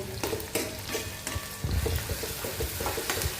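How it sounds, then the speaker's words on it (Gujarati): Chili and ginger-garlic paste sizzle in hot oil with a pinch of asafoetida, a close dense frying crackle broken by scraping stirs of a spoon against the pan, growing louder midway, with no voices. "હવે એમાં નાખવાનું મરચું, આદુ લસણની પેસ્ટ નાખી છે"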